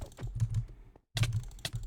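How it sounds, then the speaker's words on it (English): A loud computer keyboard clatters with close, uneven keystrokes in quick bursts, broken by a short pause before the typing resumes. "I'm sorry if my keyboard's loud, by the way."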